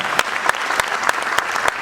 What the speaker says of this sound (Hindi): तो जोरदार तालियां मनोज जी के लिए बजाएं।